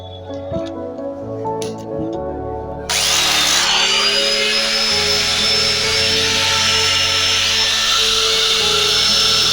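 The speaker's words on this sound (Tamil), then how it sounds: "ஃபைனலா டைல் கவரே ஃபிக்ஸ் பண்ணி ஸ்க்ரூ போட்டு நல்லா டைட் பண்ணிக்கலாம்" A power drill whirs loudly and steadily, kicking up to a higher, harsher pitch partway through while tightening screws on the cover of a tile cutting machine during servicing.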